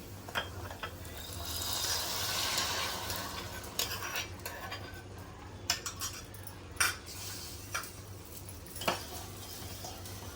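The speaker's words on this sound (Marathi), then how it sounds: "आता हे ड्रायफ्रूट तुपासकट आपण खिरीमध्ये ओतायचं आहे" A spoon clinks and scrapes against a pot as dry fruits fried in ghee are poured into sago kheer, a fasting-day porridge, and stirred, giving a run of light, irregular metallic taps.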